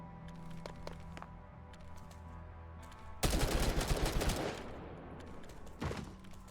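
Sniper rifle fire in the video game Girls' Frontline 2: Exilium, with a loud burst of cracking gunfire over a low ambient game score, then a single sharp shot near the end.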